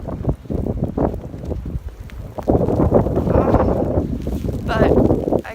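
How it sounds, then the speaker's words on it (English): Blizzard wind blows outdoors in Boston, gusting hard against the microphone in loud rumbling buffets that rise and fall continuously. "I'm out here in the blizzard. It's pretty cold and windy."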